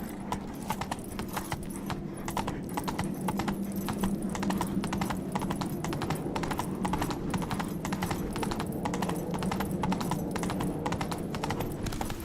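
Roach, a horse in The Witcher 3 video game, trots with steady, rapid clip-clopping hooves that carry on without a break under faint game ambience.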